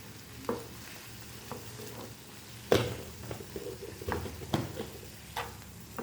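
A spoon stirs a capsicum pasta mixture frying in a pan, quiet sizzling broken by scattered scrapes and taps against the pan, close and soft with no talking.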